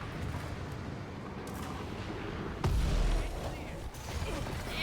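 An explosion in Dragon Age: The Veilguard lands as a single sharp, heavy boom midway, its low rumble briefly swelling over steady game ambience before fading.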